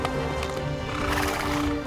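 A horse neighs and whinnies loudly, with clip-clopping hooves underneath, close and continuous with no talking.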